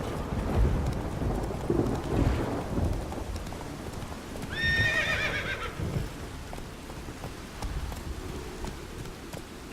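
Geralt's horse Roach in The Witcher 3 video game gives a clear, drawn-out neigh mid-clip, with clip-clopping hooves and a steady rumbling storm ambience with rain and thunder throughout.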